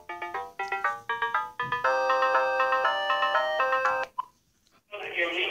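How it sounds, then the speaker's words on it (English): A phone rings close by with a repeating electronic ringtone, first in short rhythmic bursts and then in a sustained melodic run before cutting off, followed by a burst of noise. "They're ringing."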